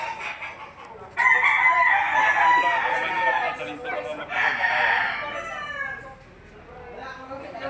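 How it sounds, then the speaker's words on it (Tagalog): Yellow-legged stag rooster crowing close and loud, one long drawn-out crow followed by a second, with clucking fowl around and someone talking nearby. "Yellow legged stag."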